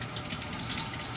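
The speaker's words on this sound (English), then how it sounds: "I rinse my roots with tap water" Tap water runs steadily over the roots of a water-grown houseplant during rinsing, a soft continuous splashing hiss without any talk.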